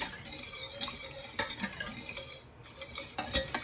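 A whisk scrapes and clinks steadily against a pan as a thickening garlic sauce for chicken with forty cloves of garlic cooks, with light sizzling underneath and a brief pause near the end.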